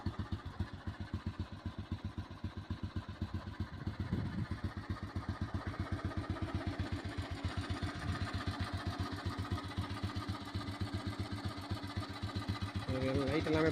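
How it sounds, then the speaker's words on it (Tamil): Restored vintage petrol Royal Enfield Bullet motorcycle engine idling after an electric start: a steady, rapid thumping beat at close range, running continuously with a voice speaking over it. "வண்டி இன்ஜின் சவுண்ட்லாம் கேட்டுக்கோங்க."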